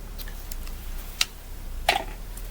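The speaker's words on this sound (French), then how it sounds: "Donc ça, c'est mes ciseaux à tout faire" All-purpose scissors cut through ribbon in a quiet room, two or three short crisp snips close by, spaced about half a second apart over a low steady hum.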